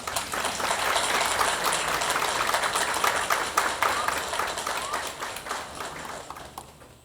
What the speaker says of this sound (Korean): 이분들께 보답의 뜨거운 박수를 부탁드립니다